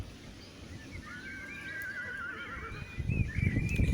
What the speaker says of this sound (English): You can hear the horses in the background.